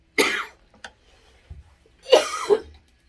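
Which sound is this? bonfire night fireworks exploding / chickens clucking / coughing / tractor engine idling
coughing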